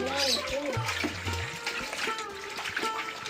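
Tap water running steadily while fish is washed in a home kitchen, with people talking over it throughout.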